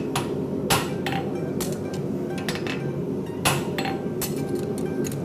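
A farrier strikes a steel horseshoe on the horn of an anvil while fitting and shaping the shoe, ringing hammer blows landing in an irregular run over a steady background hum.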